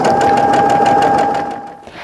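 A sewing machine runs steadily, stitching a long fabric strip for a jelly roll rug, then trails off briefly near the end of a two-second burst.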